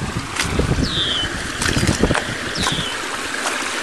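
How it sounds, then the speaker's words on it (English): A cold, clean mountain river in British Columbia rushes and splashes close by, a steady broadband wash with gusts of wind across the microphone and a couple of faint bird chirps. "And then we come to a raging river of British Columbia clean mountain water"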